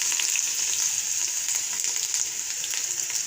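Ginger frying in a pan, a dense steady sizzle with faint crackles and light stirring, close and even in level throughout.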